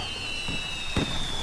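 Fireworks go off in a couple of muffled booms, the strongest landing midway, with a thin steady high tone lingering underneath and no speech.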